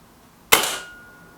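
A Kral Pro 500 air rifle fires a single pellet: one sharp, close crack that decays quickly, with a quiet room before it.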